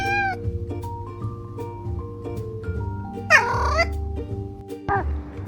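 A pet cat meows insistently for its food, a few short rising cries standing out over background music with faint household sounds.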